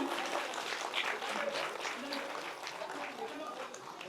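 A gathering of women clapping to welcome a guest at a community henna festival, a steady wash of applause close by with voices mixed in.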